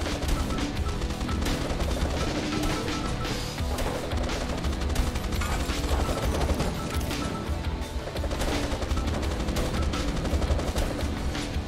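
Gatling-style minigun in the game Swarm Grinder firing a continuous rapid rattling stream, dense and steady throughout, layered with crashing impacts and no talk.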